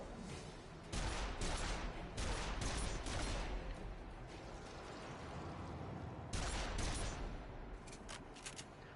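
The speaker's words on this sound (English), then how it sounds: "I'm gonna shoot this fucking spider." Bursts of rapid gunfire ring out in the video game Stranger of Paradise as a spider is shot, loud clustered volleys separated by short pauses, with a second cluster later and a few scattered shots at the end.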